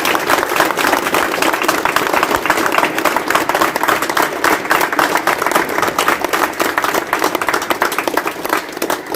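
Sustained audience applause at a ceremony, dense steady clapping from a crowd filling the whole stretch without a break, loud and close, with no voices standing out.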